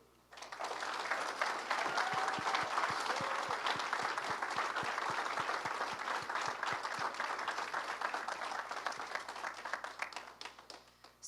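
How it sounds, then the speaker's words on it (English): An audience at Temple Beth Abraham applauds the dance cast of a Holocaust-themed performance, sustained full clapping from a sizable crowd, even and continuous for about eleven seconds before trailing off. "And a round of applause for the cast."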